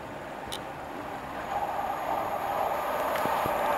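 A Pendolino train rushing through Euxton station at speed, a rising, broad rumble and rail hiss that grows louder as it approaches, with a faint squeal or two near the end.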